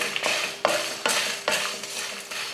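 Red chillies, Kashmiri chillies, chana dal, urad dal and coriander seeds dry roasting in a pan for vangi bath, with a spoon scraping and stirring in rhythmic strokes, close and clear with no talk.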